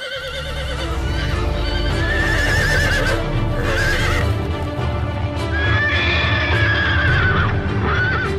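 Cartoon horses pulling a chariot whinny and neigh loudly several times over steady clip-clopping hooves, with no talk, the galloping running throughout.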